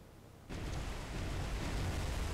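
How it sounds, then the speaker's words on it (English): Naval warfare game ship explosion: after a quiet moment a sudden heavy blast erupts and rolls on as a sustained deep rumble, loud and close. "We got a nice little explosion there"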